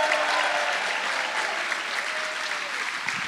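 A crowd at a conference awards session gives a big round of applause for staff members, dense loud clapping sustained throughout, with a faint voice underneath.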